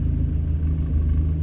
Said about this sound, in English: Now she's idling like it should.